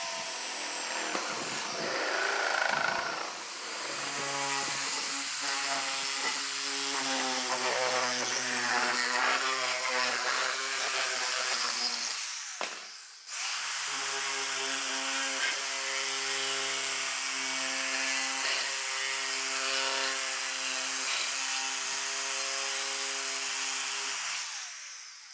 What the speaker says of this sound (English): I'm gonna use a hole saw and create two holes side by side